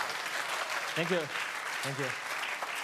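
A conference audience claps steadily throughout, a dense wash of applause, while someone briefly says a few words over it.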